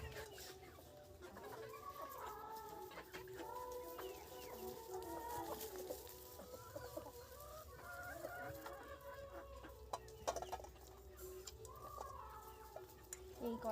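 A group of three-month-old young chickens cluck and chatter continuously at a moderate distance, with overlapping calls and a faint crow-like note, in a quiet rural setting.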